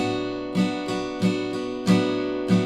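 Steel-string acoustic guitar strums the bridge chords of a song in an even rhythm, five or six bright strokes ringing into each other, close and clear with no talking.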